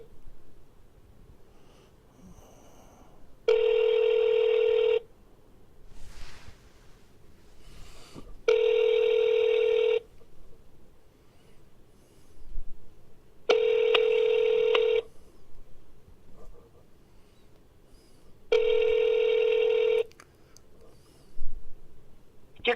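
Telephone ringing tones repeat as a call connects: four evenly spaced, steady ring bursts of about a second and a half each, separated by quiet gaps, with no one speaking.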